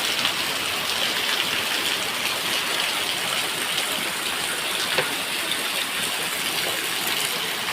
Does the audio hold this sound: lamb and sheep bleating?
no